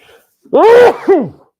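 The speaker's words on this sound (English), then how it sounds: "Forgive me, I'm going to sneeze." A single voiced sneeze, a sharp drawn-out burst followed by a shorter exhale, close and loud.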